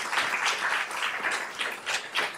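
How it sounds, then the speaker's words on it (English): Steady applause from an audience at a senior community Active Aging Week event, a dense wash of many hands clapping together for panelists, moderately loud and continuous without voices. "If we could have one more round of applause for everybody that we saw up on the stage here today"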